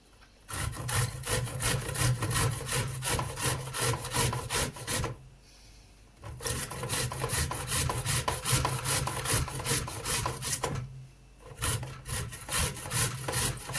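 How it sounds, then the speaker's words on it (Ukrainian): A plain zucchini is rubbed against a coarse grater in steady, rhythmic back-and-forth rasping strokes, close and loud, broken by two brief pauses, with no speech. "Беремо звичайний кабачок, натираємо на крупну терть."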